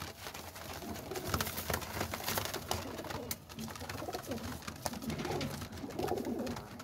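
A flock of young flying pigeons kept for sale, about two dozen birds, coos and murmurs steadily and close by, with soft rustling and fluttering mixed into the continuous chorus.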